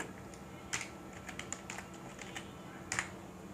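Light keystrokes on a computer keyboard entering HTML code, coming in short irregular bursts with small pauses, close and fairly quiet against a faint background hum.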